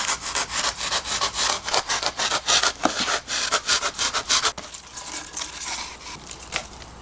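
Utility knife, blade extended half an inch, carving a V-shaped groove into styrofoam insulation: rapid rhythmic scraping and squeaking strokes up close, dense at first, then slower and more scattered.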